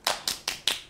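Hand clapping, four sharp, evenly spaced claps in quick succession, close and crisp, with nothing else in the background.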